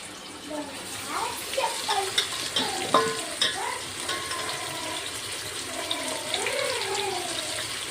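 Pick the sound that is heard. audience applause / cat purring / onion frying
onion frying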